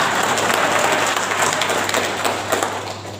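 An audience at a speech breaks into brief applause, a dense burst of clapping that holds steady and then tapers off over a few seconds.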